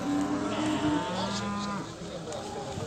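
A calf at a livestock market moos in a drawn-out, close call over busy background crowd noise at the cattle market.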